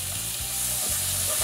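Pork pieces fry in a hot pan with a steady, close sizzle and faint stirring or flipping scrapes, with no voices.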